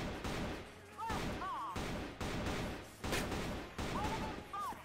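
Gunfire in the shooter game CrossFire sounds as a steady series of loud, punchy shots about once a second, with a voice speaking faintly between them.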